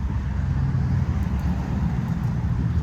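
Steady low rumble of road traffic with cars passing continuously at moderate distance on a rural road, no voices.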